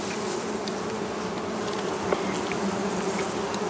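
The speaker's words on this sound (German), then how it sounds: "Die Bienen stechen nur Lumpen." Bees swarm over a flowering phacelia field, a dense continuous buzzing that stays steady and fairly close, with no speech over it.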